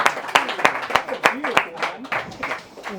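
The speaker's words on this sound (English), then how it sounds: "Give a clap to Starlight" An audience at a spoken word poetry show claps in sharp, irregular bursts while voices call out and talk over the applause.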